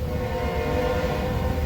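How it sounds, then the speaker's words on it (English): A passing train sounds a sustained tonal horn over a low rumbling rail noise, steady and fairly loud for the whole stretch, with no voices. "Damn train."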